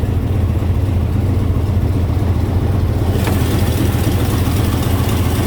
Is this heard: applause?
no